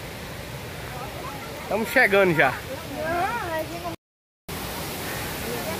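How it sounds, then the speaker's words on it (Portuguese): A waterfall close by gives a steady, broadband rush of falling water throughout, while a person speaks over it briefly; the sound cuts out for a moment near the end. "E olha o barulho que gostoso já de água caindo."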